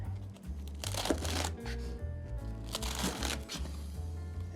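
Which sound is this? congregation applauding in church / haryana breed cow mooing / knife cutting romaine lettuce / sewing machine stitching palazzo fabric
knife cutting romaine lettuce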